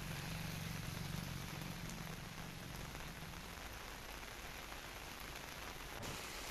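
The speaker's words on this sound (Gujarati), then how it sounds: "દાહોદમાં સવારથી જ ભારે વરસાદ પડી રહ્યો છે, ધોધમાર વરસાદ" Heavy rain pouring down in Dahod, a dense, steady hiss of downpour striking surfaces, continuous and even throughout with no voices.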